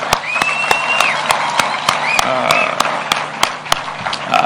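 An audience claps for a group of girls performers at a Kenyan event with President William Ruto, steady dense applause with sharp individual claps standing out, a few whoops and voices mixed in.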